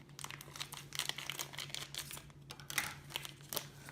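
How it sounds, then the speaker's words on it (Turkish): Sealed package of Tangiers Kashmir Cherry hookah tobacco being opened, giving close, irregular crinkling and tearing of plastic or foil packaging with sharp crackles throughout. "şu şekilde e, kapalı bir pakette geliyor. Şunu açalım."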